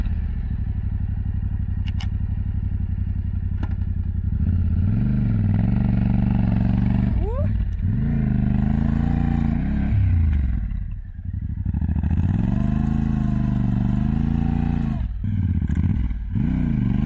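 A loaded motorcycle stuck in soft desert sand on a Moroccan piste roars and strains at high revs, rising and falling in surges with a brief dip partway through, close and loud throughout.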